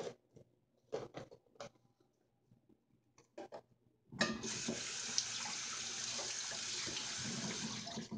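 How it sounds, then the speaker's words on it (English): A chilled drink is poured out of a container rather than through its spout, a sudden steady splashing stream that begins midway after a few quiet clicks and handling knocks and keeps running to the end. "If I pour it out instead of using the spout"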